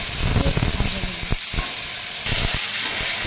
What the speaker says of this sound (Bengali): একটু ভেজে নিচ্ছি, জলটা শুকাবে ততক্ষণে।